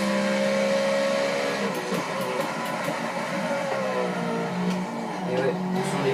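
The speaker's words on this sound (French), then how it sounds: "Et ouais, ce sont les pneus qui glissent." A car laps the Bugatti circuit at Le Mans as its tyres slide, with a continuous engine drone heard from on board and a few faint scuffing bursts along the way.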